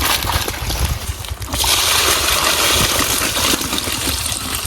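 Water pours and gushes steadily into a muddy fish pond being refilled, a loud continuous rushing and sloshing close by, briefly dipping before surging again.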